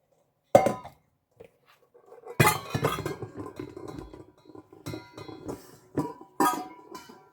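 A mixing bowl taken out in a home kitchen while making pineapple cake balls: a few sharp, close clanks and knocks with lighter rattling and shuffling between them, no talking.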